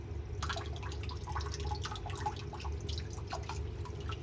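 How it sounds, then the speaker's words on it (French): Aquarium filter cups from a reef tank rinsed under running water, a close, fairly quiet patter of splashes and drips over a steady low hum. "Pareil, je rince."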